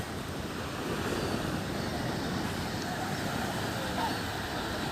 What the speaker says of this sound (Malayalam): തിരയടിച്ച് കയറി വരികയാണ്.